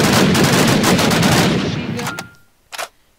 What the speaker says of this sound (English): You can shoot sharply with it, shoot one bullet